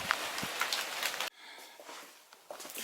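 Heavy rain belts down on Chobham Common and runs along a road as a dense, steady hiss that cuts off abruptly partway through, leaving a quieter, softer wash of rainfall.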